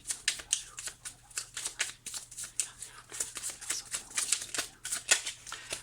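Tarot cards shuffled by hand in a quick, steady run of crisp riffling bursts, close and fairly quiet, with a faint low hum underneath and no talking.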